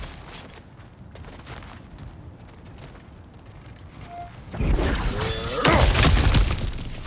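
Objects smashing and breaking in the God of War video game, a quiet ambient stretch giving way to a loud burst of shattering debris and crashing rubble that fills the last few seconds.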